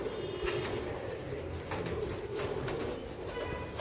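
Royal Teddy pigeons coo in soft, repeated throaty calls, fairly close but quiet, with faint rustling and other birds in the background.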